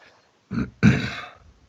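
A person clears their throat with a couple of rough, gravelly bursts, close to the microphone, followed by the start of a voice.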